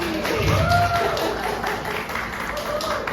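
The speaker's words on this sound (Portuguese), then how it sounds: "Muito bem, palmas para Alice." A church congregation at an in-person worship service claps for a child, a dense wash of scattered hand claps blended with room noise and faint voices, moderately loud and sustained.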